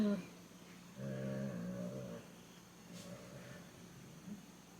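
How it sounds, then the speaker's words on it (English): Soft, low snoring from a sleeping dog, a few drawn-out breaths with pauses between, quiet and close in an otherwise still room. "Can you hear my dog?"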